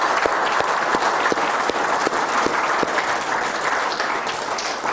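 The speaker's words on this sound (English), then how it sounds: "So a big round of applause for the Achievers staff." Dense, steady audience applause fills the room after a tech-company talk honouring the staff, with many hands clapping continuously and evenly for the whole stretch and no voices over it.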